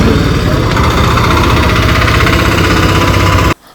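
A scooter engine idles close by at a petrol pump, giving a loud, steady, vibrating drone that holds even for several seconds and then cuts off abruptly.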